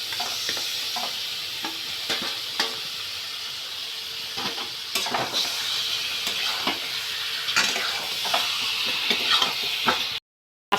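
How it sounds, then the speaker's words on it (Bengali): Fish frying in hot oil in a pan while being stirred, a continuous loud sizzle and hiss with repeated scraping and knocking of the utensil against the pan, no voices. "তখন আমি মাছগুলো ঢেলে দিব"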